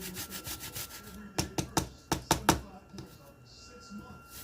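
Food being rubbed over a hand grater while preparing pickle-stuffed bacon wraps, giving a short run of about seven quick scraping strokes after a brief stretch of quiet background talk.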